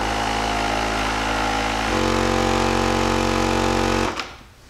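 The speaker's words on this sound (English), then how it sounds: "I got 32 PSI set in this air compressor, and I'm just gonna thread it on here." A roadside Audew portable air compressor set to 32 PSI runs while inflating a tire, a loud, steady mechanical hum with a rattling pulse that deepens midway, then cuts off abruptly near the end.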